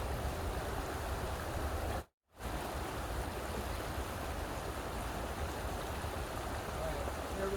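A waterfall's steady, dense rush fills the air with constant broadband hiss, interrupted by a brief moment of silence early on.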